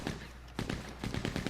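Bursts of machine gun fire from a fantasy co-op video game, sounding as two or three short rattling volleys with a brief lull between them, fairly close and with no talking over them.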